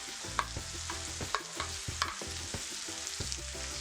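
Tomatoes sizzle in hot olive oil in a pan, a constant close crackle broken by a regular rhythm of spoon scrapes and stirring knocks.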